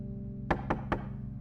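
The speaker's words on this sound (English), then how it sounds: "My head shoots up at the sound of a knock at the door" Three evenly spaced knocks on a door, close and distinct, landing over a steady low hum inside a metal-walled spaceship room.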